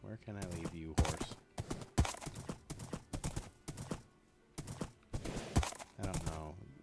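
Hooves of a horse in a hardcore survival video game clip-clop in quick, sharp, percussive steps at a steady rhythm, fairly close and continuous throughout.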